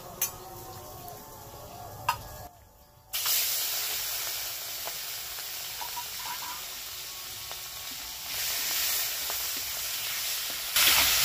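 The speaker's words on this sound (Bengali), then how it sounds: "এর মধ্যে চিংড়ি মাছটা ভেজে নেব।" Prawns coated with salt and turmeric fry in hot oil, giving a loud, steady hiss and sizzle that flares up after a brief quiet moment and continues with scattered spits and crackles.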